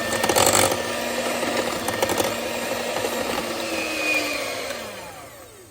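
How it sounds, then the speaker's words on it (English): A hand mixer whirs steadily as it creams mashed bananas with sugar, a continuous close motor drone with slight pitch shifts and a few rattling bumps early on before winding down. "I'm going to use my hand mixer and I'm going to blend all this until it's nice and creamed"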